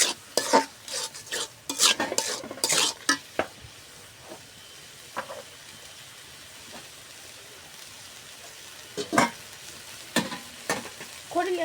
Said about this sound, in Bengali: আর সামান্য কাঠ মশলার গুঁড়ো দিয়ে দিব। মশলাটা সুন্দর কষাবো।